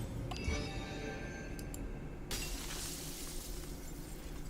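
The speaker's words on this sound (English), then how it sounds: "the sound of something shattering rings out" Something shatters in the video game Morimens: a sudden, loud burst of breaking noise partway through that then settles into a sustained, bright wash, heard alone with no talk.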